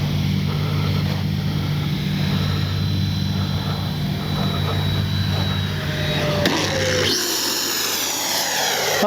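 An FMS Avanti S 90mm RC jet flies with a steady rushing whine, a thin tone sliding in pitch as it passes, and the roar shifting abruptly near the end.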